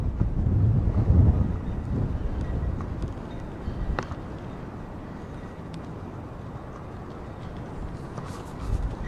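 Strong wind buffets the microphone outdoors in Weld County, a rough low rumble gusting loudest at the start, easing off, then rising again briefly near the end.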